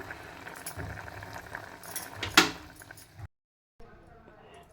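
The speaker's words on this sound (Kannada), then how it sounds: "ಇವು ಒಂದು ಐದು ನಿಮಿಷ ಕುದೀಲಿ ಹೂಕೋಸು" Cauliflower boiling in a pot on a gas stove bubbles and burbles steadily at close range, broken by a sharp clink of metal, a sudden silence, then quieter bubbling resumes.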